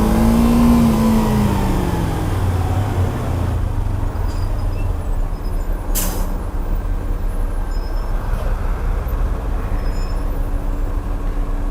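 A compressed natural gas bus accelerates in city traffic, a loud low engine roar rising then holding steady, with passing road noise and a brief hiss midway.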